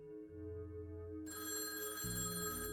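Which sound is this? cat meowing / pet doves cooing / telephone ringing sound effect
telephone ringing sound effect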